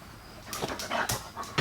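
A dog gives a short run of sharp yips and whimpering barks, loud and close, with brief gaps between the bursts and no talking.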